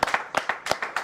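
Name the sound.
audience applause at press conference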